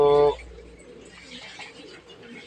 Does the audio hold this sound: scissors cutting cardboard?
no